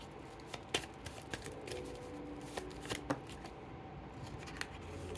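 Tarot cards are shuffled and dealt by hand at close range, giving quiet, irregular papery flicks and sharp snaps against a hushed room.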